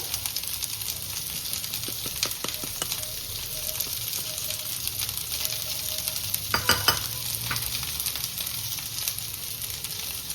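Okra sizzles and fries steadily in a pan, a close, continuous crackle with occasional stirring clatters and utensil scrapes, no talking.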